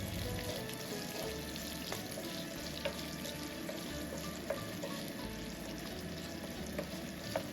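Chopped onions fry in hot oil with cinnamon for a Bengali curd-based rohu curry, a soft steady sizzle with faint scraping and stirring throughout.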